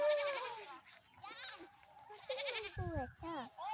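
A goat bleats several times at close range, with wavering calls rising and falling, mixed with a voice and other nearby talk.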